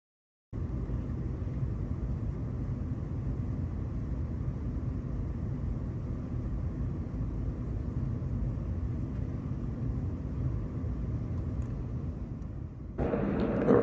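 A Lufthansa Boeing 747-8 on approach to Mexico City makes a steady, broad cabin rumble that holds nearly constant for the whole stretch, then gets a little louder and brighter right at the end.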